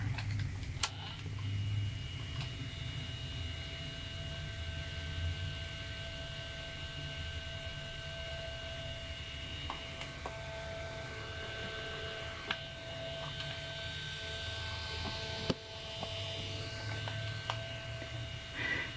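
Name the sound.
Walkman cassette player motor running loudly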